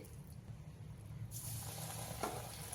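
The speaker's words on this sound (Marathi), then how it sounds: "तेल गरम झालेलं आहे आता आपण करूया खेकडा भजी" Onion crab-style bhaji (khekda bhaji) batter dropped into hot oil sets off a faint, steady sizzle that jumps up partway through over a low background hum.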